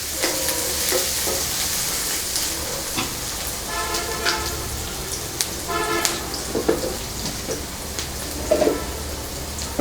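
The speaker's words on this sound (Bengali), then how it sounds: "ভাজা ভাজা করে" Water lily stems frying in a pan, a steady sizzle broken by repeated scraping and clattering stirs, with a brief horn-like tone in the background.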